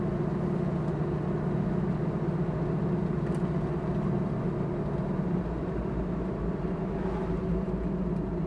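A 1967 Chevrolet Camaro SS runs up through its four gears, its engine a steady low rumble heard from inside the car, droning continuously with little change in loudness and no talking.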